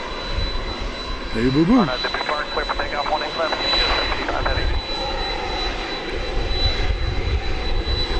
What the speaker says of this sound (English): This is the A300 poised to take off